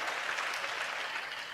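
Congregation clapping during a church sermon, a steady dense patter of many hands sustained evenly throughout, moderately loud with no voices over it.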